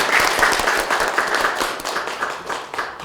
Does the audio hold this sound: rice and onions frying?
no